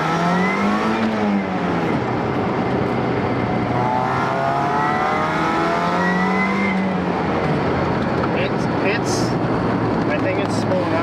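A supercharged 1.6-litre Mazda Miata engine revs and pulls hard, rising and falling in two broad sweeps under a steady loud roar, heard close with a voice talking over the engine.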